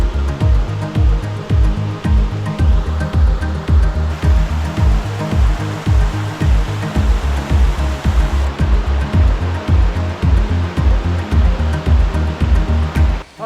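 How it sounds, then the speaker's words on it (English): A small waterfall on Koh Chang island, its steady rushing roar filling the whole stretch at close range, with a regular pulsing beat running underneath. "It's a nice little waterfall"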